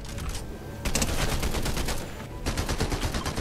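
Automatic gunfire in a shooter video game sounds in sustained, loud bursts, with a short lull in the middle before another stream of rapid shots.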